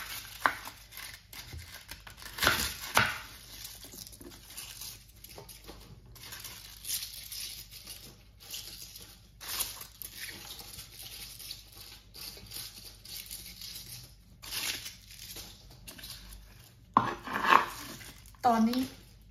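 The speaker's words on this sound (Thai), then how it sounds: "หั่นน้อยหั่นใหญ่ค่ะตามสบายเลยค่ะ" A knife taps and chops vegetables irregularly on a cutting board, sometimes in quick bursts, with faint kitchen clatter in the background.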